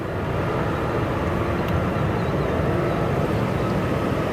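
An Embraer E175 jet lands at O'Hare, a moderate distant engine rumble and rushing noise that stays steady and fairly faint throughout.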